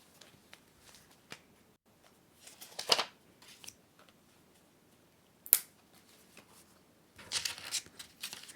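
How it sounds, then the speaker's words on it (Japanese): Blank refill sheets are pulled from a Plotter system planner, producing scattered soft paper rustles and clicks, with a sharper snap of the binder rings and a rustling shuffle near the end. "用紙だけ、何も書いてない用紙だけちょっと外しますね今ね。"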